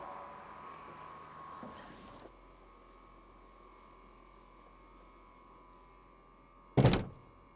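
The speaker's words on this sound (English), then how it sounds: "let's pop open the dihedral synchro helix doors and hop inside" Koenigsegg Gemera 2023 dihedral synchro helix doors, a faint mechanical hum and soft rustle at the start, a long quiet stretch, then one loud, close thunk near the end.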